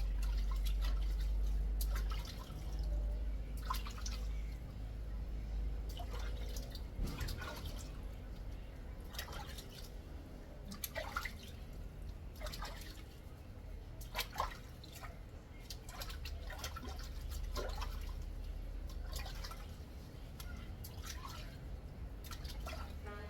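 Braided hair being washed in cold river water, with a steady wash of flowing water broken by frequent splashes and drips close by, continuing throughout.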